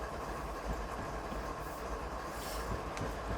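BNSF 7202 freight train rumbling along in Train Simulator 2020, a steady low engine and rail drone with faint clanks, continuous and moderately quiet.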